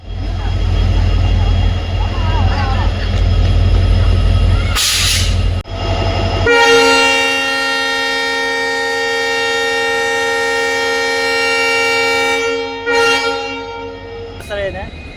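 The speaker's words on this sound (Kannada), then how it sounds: "train number 56207 Chamarajanagar Mysuru passenger ಅಲ್ಲಿ ಇವತ್ತು ನಾವು ಟ್ರಾವೆಲ್ ಮಾಡ್ತಿದ್ದೇವೆ" Chamarajanagara–Mysore passenger train 56207 rumbling along with loud low wheel and carriage noise, voices audible over it early on, then a long sustained horn blast with strong steady overtones lasting several seconds before fading back into the running train.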